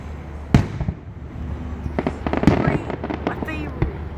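Fireworks set off early on July 3 crack and pop in a neighborhood, several sharp bangs spread irregularly over a few seconds, fairly close, with people talking in the background.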